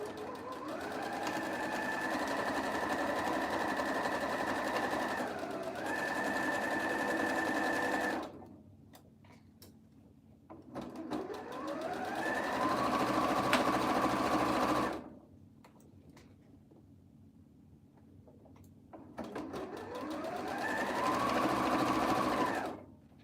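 A sewing machine stitches a surgical scrub cap in three long, loud runs, its motor pitch rising as each run starts, with quieter pauses in between.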